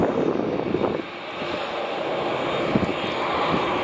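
Virgin Australia airliner on short final to runway 16 at Melbourne Airport, a steady distant jet roar with broadband rumble holding through the whole stretch.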